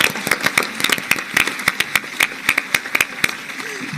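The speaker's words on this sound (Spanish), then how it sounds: "Terminamos ahí con un aplauso." Scattered handclaps from a conference audience at a lawyers' panel in San Luis, sparse and irregular rather than a full ovation, moderately close, with no talk over them.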